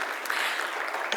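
A conference audience at a public-interest AI summit claps for a state representative, a steady broadband patter of many hands filling the short stretch at moderate loudness with no voices over it.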